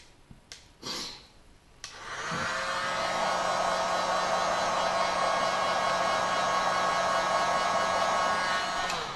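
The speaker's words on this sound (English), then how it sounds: "So remember what I said about the heat gun, go easy." A heat gun blows on a Samsung Galaxy S5 phone screen during a screen replacement, starting after a few soft handling knocks and settling into a loud, steady whooshing drone with a faint motor whine.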